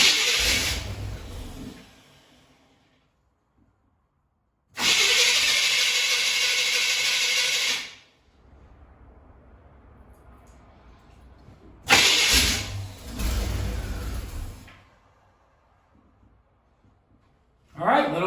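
A Chevy 350 V8 in a parked car with a carburetor, sitting unused for 20 years, cranks over in three loud, close bursts of several seconds each, separated by quiet pauses, without catching and running.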